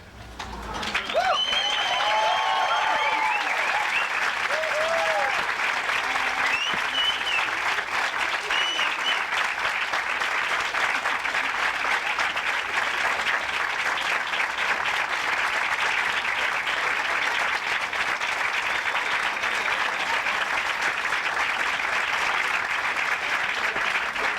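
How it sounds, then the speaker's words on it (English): A class stands and applauds its parents in long, sustained clapping, a dense, even roar of many hands that carries on steadily for over twenty seconds. "That was an extra long applause"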